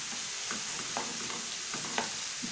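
Small-cut chicken pieces and onions fry in a pan, giving a steady close sizzle broken by brief scraping stirs, with no talk.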